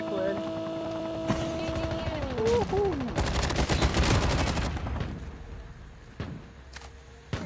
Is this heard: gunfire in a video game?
yes